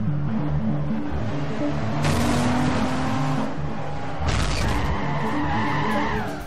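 A race car in Forza Motorsport 4 speeds around the Hammerhead: a loud, continuous engine roar that climbs through the revs, drops at gear changes and swells again, with a hint of tire noise.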